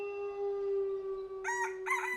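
A rooster gives two short, close crowing calls over a steady humming tone in the background.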